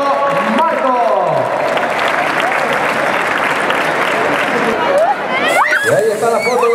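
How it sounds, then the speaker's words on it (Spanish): Loud, dense applause from a crowd at a Spanish dirt rally championship awards ceremony in Lorca, Murcia, steady clapping throughout with voices and cheers mixed in near the start and end. "Fuerte aplauso para Pablo Marco."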